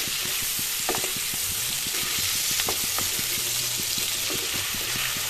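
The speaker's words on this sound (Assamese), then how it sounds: "এইখিনি ভাজিব লাগিব প্ৰায় 5 মিনিট সময় এনেদৰে" Borali fish pieces frying in hot oil, a continuous near sizzle with scattered light taps and scrapes of a utensil in the pan.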